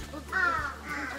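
A crow caws at Noboribetsu Bear Park in Hokkaido: one drawn-out harsh caw, then a fainter second call, heard at moderate distance over a low background rumble.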